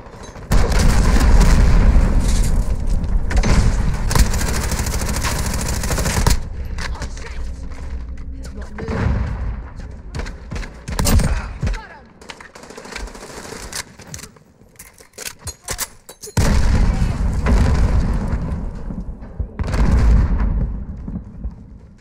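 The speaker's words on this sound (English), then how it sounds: "Allied cruise missile away." A cruise missile strike in the Modern Warfare video game sets off a run of loud, heavy explosions and booming blasts. Gunfire and dense battle noise fill the gaps, with a few quieter stretches between the strong bursts.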